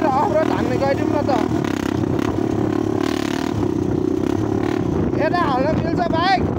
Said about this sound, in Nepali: अफरोड त गाइजहरू अफरोड हान्ने हो नि त मस्त अब बाइक पट्काउँदै आफूले